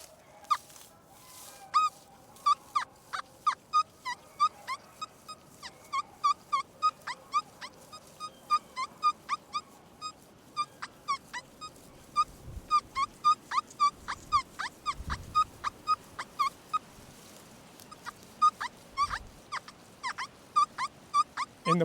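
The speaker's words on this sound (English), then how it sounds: "I don't know what those dogs are barking at" Several dogs bark repeatedly at a distance, high yapping barks in a steady irregular stream that continues throughout, heard from an open pasture.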